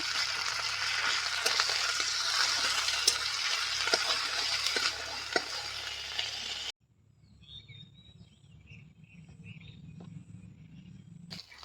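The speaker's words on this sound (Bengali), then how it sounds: "আদা রসুন বাটা ভালো করে ভেজে নিয়েছি" Ginger garlic paste fries with onions in hot oil, giving a loud, crackling sizzle for several seconds. It then cuts abruptly to a much quieter, softer frying hiss with faint clatter.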